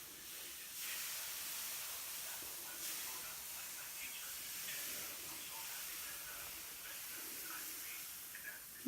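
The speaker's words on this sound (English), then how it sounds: "Okay, we're getting the steaming action that we were looking for." Steady hiss of steam rising from a homemade lemon juice cleaning mixture heated in a microwave, a continuous soft airy wash with faint clicks and small bumps throughout.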